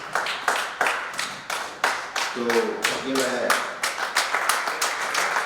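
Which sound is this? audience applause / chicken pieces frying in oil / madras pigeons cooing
audience applause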